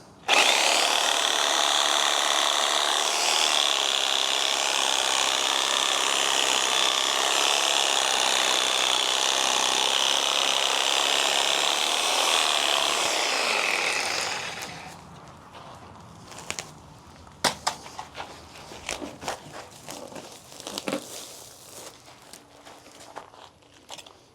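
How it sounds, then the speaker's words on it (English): Trident maple bonsai roots cut at an angle with a power tool, a loud, steady grinding whine running for about fifteen seconds before stopping, followed by scattered knocks and handling sounds. "I'm gonna cut them at an angle going down to fix the taper on these roots"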